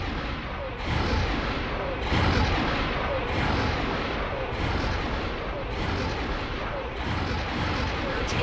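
Heavy central guns firing in the space combat game X4 Foundations, a dense continuous barrage of booming shots with recurring surges, loud and close throughout.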